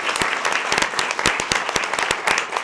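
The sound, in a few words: audience applause for a state champion high jumper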